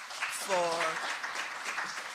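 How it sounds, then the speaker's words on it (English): Applause at a Jamaica Accountability Meter Portal event for the board chairman, a soft, steady patter of clapping with a brief voice rising through it. "I think he deserves a round of applause"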